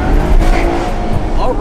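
A budget exotic sports car pulls away at roughly half throttle, its engine note rising loud and close for under two seconds while excited voices talk over it.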